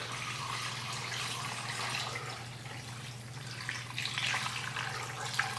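Steady stream of water pouring and splashing into a cooking pot, continuous with a slight rise in intensity toward the end.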